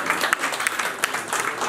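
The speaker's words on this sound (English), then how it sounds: "a round of applause" Audience applause for a team at a banking quiz show semi-final, a steady wash of many hands clapping close and even, with a few sharper individual claps standing out.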